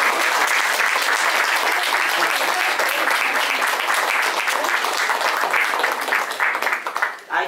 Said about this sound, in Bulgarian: Заслужавате аплодисменти.